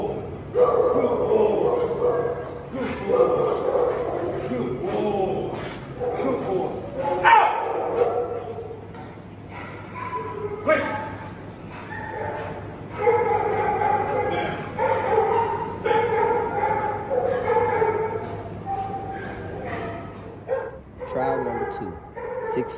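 Rottweiler barking during a protection dog trial with a sleeve-wearing agitator, repeated loud barks and yips in irregular bursts, with a person talking over them.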